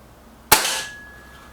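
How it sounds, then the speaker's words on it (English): A single Reximex Accura air rifle shot at target rings makes a sharp, close crack followed by a short ringing decay, with no other sound around it. "Let's get the Accura away with its first shot at the 5 rings."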